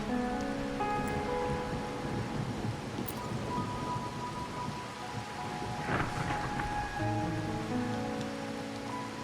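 Steady rain pours at night in the Wuthering Waves video game, a dense constant hiss with low thunder rumbling underneath and brief musical tones drifting over it.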